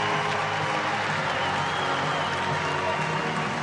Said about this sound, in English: Huge cheer for Rebecca Redford.